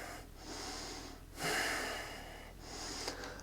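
Breath pushed out during a seated yoga twist in a vinyasa flow class, heard as several close, breathy airy exhales with short pauses between them, no talking.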